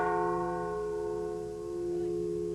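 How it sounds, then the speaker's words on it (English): Church bells of San Guillermo in Bacolor, Philippines ring in warning, their sustained tones hanging and slowly fading and swelling, clear and fairly near with no voices. "San Guillermo has rung its bells in warning and sorrow"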